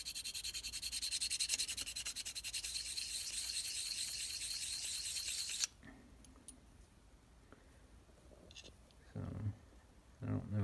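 The sole of a 102-year-old Stanley No. 5 hand plane is rubbed back and forth on a sanding block, making rapid, rhythmic scratchy strokes for about six seconds before stopping, followed by light handling and brief talking.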